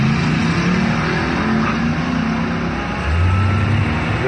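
Two drag cars, an '89 Pinto and a '77 El Camino, rev and launch down the strip, a steady engine roar building louder toward the end with no talk over it.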